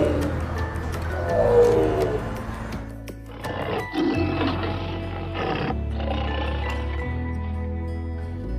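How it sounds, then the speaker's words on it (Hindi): A tiger roars and growls in a series of deep, rough calls with short pauses between, close and fairly loud, with no talking. "और आइए अब हम बाघ की आवाज को सुनते हैं।"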